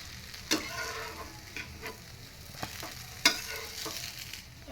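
Moong dal dosa frying on a hot pan, sizzling steadily at close range, with a few sharp clicks and scrapes from a utensil on top; no one speaks.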